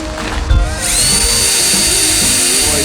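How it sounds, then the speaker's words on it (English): A small drill bit bores into metal while fabricating a 2-inch camper receiver. A power drill whirs up and holds a steady, loud, high whine as it cuts. "I start with a small drill bit."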